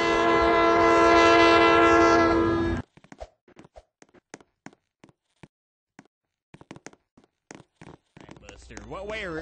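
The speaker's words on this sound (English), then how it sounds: "Here comes the choo-choo train" Train horn blares loud and sustained with rolling rail noise for about three seconds, then cuts off abruptly, followed by scattered clicks and brief sounds.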